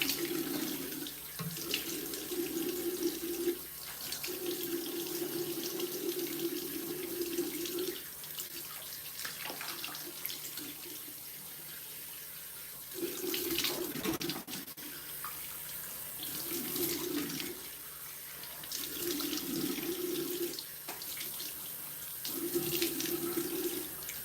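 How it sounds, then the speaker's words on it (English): Tap water runs steadily into a sink as dark-spot-correcting soap is rinsed off a face, a close continuous splashing rush that shifts in tone as hands move through the stream, with no talking. "once I start seeing the soap absorb, that's when I rinse it off"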